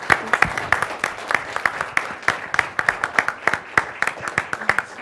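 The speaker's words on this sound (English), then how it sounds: "I'd like to give her a round of applause" A small audience applauding at an entrepreneur-in-residence event, with scattered, uneven claps that are fairly close and sparse rather than a full roar, continuing steadily for several seconds.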